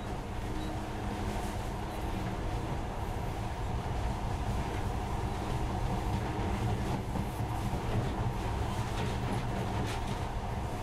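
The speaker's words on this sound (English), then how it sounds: "In the past, trains were ordinary things, but now, this monorail seems magic, doesn't it?" A monorail train runs steadily in Metro Last Light Redux, giving a continuous close rumble with rattling and faint clicking over about ten seconds, with no talking.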